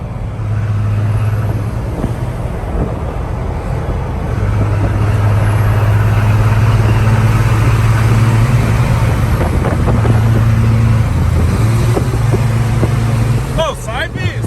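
Ford F-250 pickup truck engine running on a road, a loud steady low drone with a sustained rumbling tone throughout, heard from inside or close by, with people talking over it.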